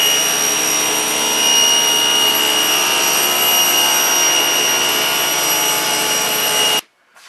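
A circular saw rips wooden boards into strips with a loud, steady, whining roar that holds for about seven seconds, then cuts off abruptly into near silence.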